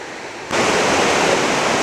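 A waterfall on the Upper Chattahoochee River near Helen, Georgia, seen from a viewing platform, roars in a broad, steady rush of falling water that swells in suddenly after a quieter opening and stays loud and continuous.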